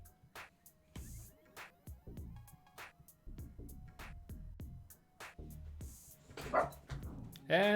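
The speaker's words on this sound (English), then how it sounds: "And the dogs are barking." Several dogs bark repeatedly in uneven bursts, fairly close, with a few higher yips near the end, while a person talks in between.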